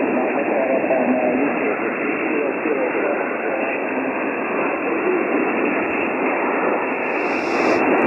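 HF amateur radio receiver noise from an Icom IC-7610 fills the air as a constant dense hiss of static. Any weak station is buried in the noise floor, and the roar stays loud and unbroken throughout.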